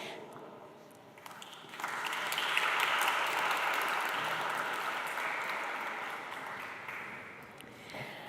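Sustained applause from an awards ceremony audience at the Hofburg Palace in Vienna, starting softly and swelling into steady, dense clapping that holds for several seconds before easing slightly.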